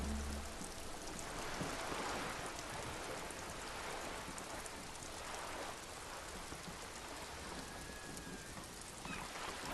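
Rain falls in the video game Disco Elysium as a faint, dense, steady hiss of drops on surfaces, an unbroken wash of ambience with no voices.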